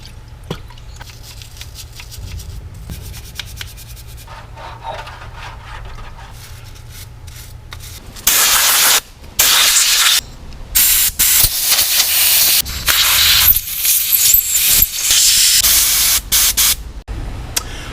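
A 1973 Scout II carburetor is scrubbed with a wire brush and then rinsed with water, soft close scraping giving way to loud, hissing bursts of spray that start and stop repeatedly.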